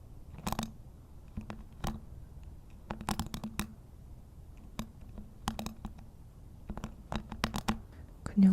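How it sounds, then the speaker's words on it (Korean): Masking tape handled up close for ASMR: quiet, scattered crinkles and sticky peeling ticks come in irregular bursts against a near-silent background. "그냥 상상으로 좋지 않을까 해서 가져온 마스킹 테이프거든요."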